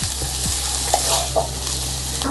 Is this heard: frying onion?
yes